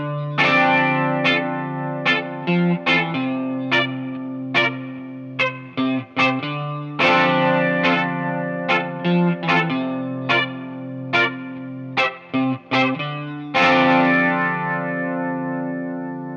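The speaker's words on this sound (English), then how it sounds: "So I'm going to use my looper pedal, and I'll just give you an example." Electric guitar parts of a song, layered on a looper pedal with a chorus-like shimmer: clean, rhythmic chord stabs and sustained notes repeating in a loose groove, close and even in level.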